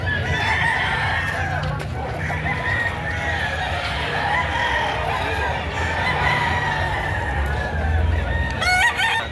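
Loud, dense chorus of roosters crowing and chickens clucking together, with a continuous busy hubbub of a livestock market in Padre Garcia, Batangas behind them.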